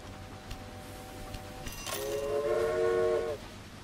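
Freight train in the Railway Empire game running along the line, a steady rumble with a sustained tonal horn-like whistle swelling in the second half, fairly faint overall.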